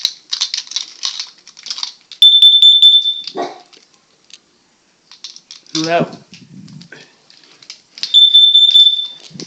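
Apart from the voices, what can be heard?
home smoke alarm sounding during test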